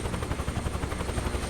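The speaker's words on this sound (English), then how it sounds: "this helicopter flies really smooth" Steady helicopter rotor drone with a rhythmic low thumping pulse, heard alone at a constant level from a helicopter in flight in Microsoft Flight Simulator 2024.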